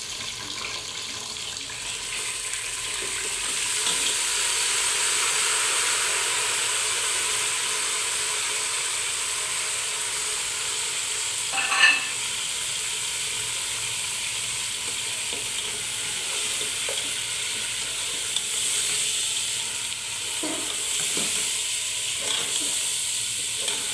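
Mutton fries with browned onions for korma, a continuous dense sizzle lasting the whole stretch with an occasional stirring knock and no talking.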